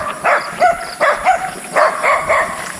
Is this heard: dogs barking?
yes